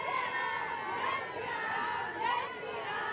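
Police drive back a protest crowd in Jalore, and the scene is a dense, continuous roar of agitated voices with shouting across it. The noise stays steady and close, with a brief louder surge near the end.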